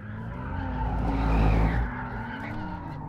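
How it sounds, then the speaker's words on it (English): A Ferrari 296 GTB plug-in hybrid cornering hard through a hairpin in second gear, its engine note swelling and falling while the tyres squeal loudly and close. "we've got a bit of a hairpin here. Second gear, chuck it in."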